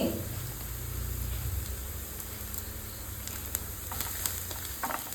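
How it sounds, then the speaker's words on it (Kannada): Chopped onion and curry leaves frying in oil in a pan for Mangalorean clam sukka, a steady close hiss and crackle, heaviest in the opening seconds, with a few sharper pops and stirring taps toward the end. "ಇದಕ್ಕೆ ಒಂದು ದೊಡ್ಡ ಈರುಳ್ಳಿಯನ್ನು ಸಣ್ಣದಾಗಿ ಕಟ್ ಮಾಡಿ ಹಾಕಿ ಫ್ರೈ ಮಾಡ್ತೀನಿ"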